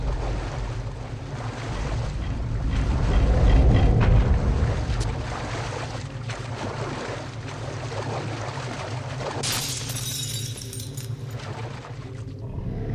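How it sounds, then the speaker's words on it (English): Water waves in the game Metro Last Light, a broad rushing wash that swells toward the middle and then continues as steady surging noise with some scattered splashes and jangling, no voices. "Look, water."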